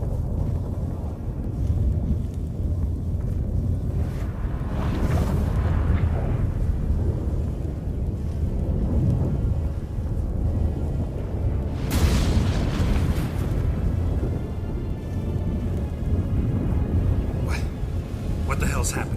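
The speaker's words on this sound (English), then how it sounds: "That a storm?" A thunderstorm in The Witcher 3 video game as the gate between worlds opens: loud, continuous rumbling and roaring wind with bursts of crackling thunder, heard with speech from characters.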